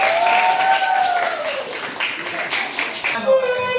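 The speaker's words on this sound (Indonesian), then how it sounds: "Kalau begitu kita tepuk tangan." A classroom group claps together after student group presentations, a dense burst of applause mixed with voices that fades out toward the end.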